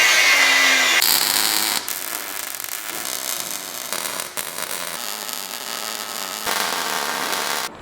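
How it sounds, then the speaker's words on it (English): MIG welder laying beads on steel cross bracing for a homemade 4WD flex ramp, a steady loud crackling hiss that breaks off and restarts in several short bursts. "got me having another go at the welder"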